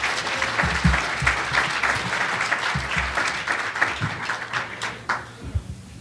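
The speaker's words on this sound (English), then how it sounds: "So please give a warm round of applause for Dr. Michelle Sexton." Sustained applause from a conference audience welcoming a speaker onto the stage at a talk on cannabis and PTSD in veterans, dense clapping holding steady for several seconds before tapering slightly.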